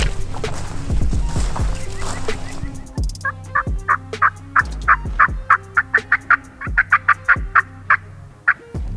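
Wild turkeys in Wisconsin woods during spring season, a dense burst of rattling gobbles at first, then a steady series of short, loud, repeated gobbles ringing out one after another.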